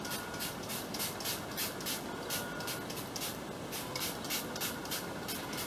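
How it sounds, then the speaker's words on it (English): A hand spray bottle spritzes water onto hair during a sponge-curl styling routine, a rapid series of short, close, hissing bursts repeating in a steady rhythm with no talk. "So I'm just going to spritz my hair all around."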